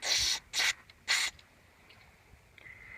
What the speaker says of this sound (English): Go up in here and spray.